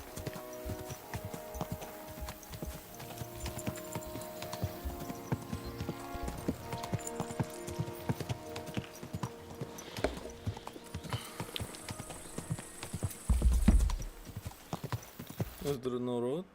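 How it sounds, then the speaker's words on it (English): Horse hooves clip-clopping steadily in the medieval role-playing game Kingdom Come, an even trotting rhythm layered with game music, an occasional whinny, and someone talking over it. "Easy, good horse."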